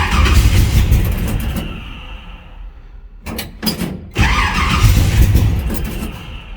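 A 1986 Chevy engine in a garage cranks and roars, the throttle worked so it revs loudly, drops away briefly for a couple of sharp bursts, then surges back to a strong, rough run.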